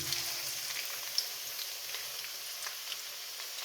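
Sliced onion sizzles in hot oil in a pan for a Bengali fish paturi recipe. The sound is a steady, close, crackling hiss with a few faint pops and no voices.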